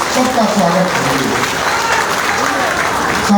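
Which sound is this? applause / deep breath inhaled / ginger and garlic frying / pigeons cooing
applause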